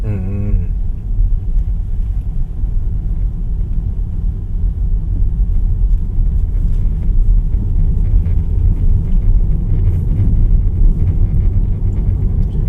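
Steady low road rumble and tyre noise inside a moving 2023 Tesla Model 3 electric car at speed, a continuous even drone with no engine sound and no talk over it.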